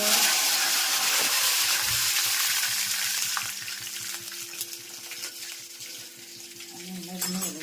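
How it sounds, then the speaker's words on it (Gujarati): Mung beans tempered in hot oil with mustard seeds, cumin, fenugreek powder and curry leaves give a loud, close, crackling sizzle that settles into steady frying, with faint stirring clinks. "અને મગનો વઘાર."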